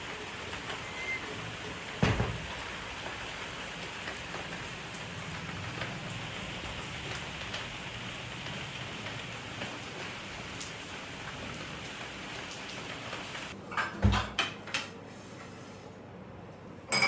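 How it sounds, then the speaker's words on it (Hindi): Steady rain falls in a dense, even hiss with a few louder drips and knocks near the end, heard alone without speech. "फिर धूप भी आ रही है, बारिश भी हो रही है।"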